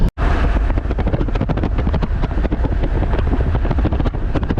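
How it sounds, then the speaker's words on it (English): Strong, steady wind roars and buffets continuously at roughly 40 mph gusts or more in the Great Salt Lake Desert, Utah, with rushing gusts pounding a nearby surface throughout and no voices. "boy, it is windy"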